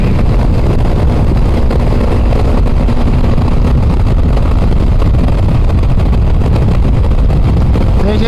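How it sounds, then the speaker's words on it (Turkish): Voge SR4 motorcycle ridden hard with traction control on, its engine droning steadily under heavy wind rush, the power briefly cutting out as the system intervenes; loud and continuous throughout. "Gene Gene bakın tık tık kesiyor motoru."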